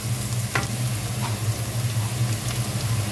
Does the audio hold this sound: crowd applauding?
no